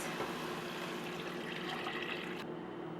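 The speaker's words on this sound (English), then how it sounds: "Add 8 cups of water, which is basically 2 liters." Water, about 2 liters, pours steadily into a cooking pot with a full, continuous rushing splash that stops abruptly near the end.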